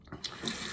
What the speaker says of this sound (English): I ran the water a little bit and I pressed my brush right down into the water